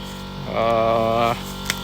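A budget onboard air compressor hums steadily up close, its droning tone swelling for about a second before dropping back to a low background hum.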